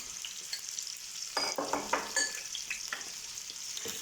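Tomato paste and meat fry with garlic in a pan, a soft steady sizzle broken by irregular scraping stirs close by.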